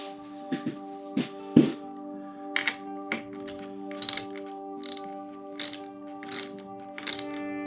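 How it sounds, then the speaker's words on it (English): Ratchet wrench clicking in short bursts while tightening a terminal on a 48 V LNMC lithium battery cell pack, a series of crisp mechanical clicks and taps, close and fairly quiet, with no talking. "And when tightening, very important not to over tighten."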